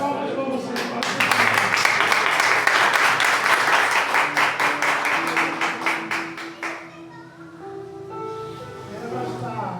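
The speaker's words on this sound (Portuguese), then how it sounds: "As palmas para vocês, pastor." A church congregation applauds their pastor after a sermon, rhythmic clapping building loud and close for several seconds, then fading as an organ or keyboard chord sustains and a voice begins speaking.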